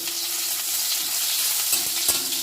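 Crushed chui jhal stems frying lightly in oil make a continuous close sizzle, with a couple of soft stirring knocks toward the end and no talk.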